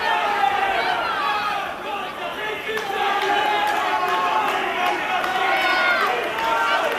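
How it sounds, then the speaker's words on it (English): A dense, steady roar from the crowd fills the arena at a fight event, loud and continuous, with a commentator talking over it throughout. "There's so much noise in the crowd."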